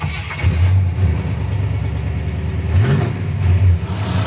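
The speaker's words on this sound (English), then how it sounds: "let's go ahead and hear her start" A 1957 Chevy's engine runs steadily up close, its low rumble swelling into a brief rev near the middle before settling back to a loud, continuous idle.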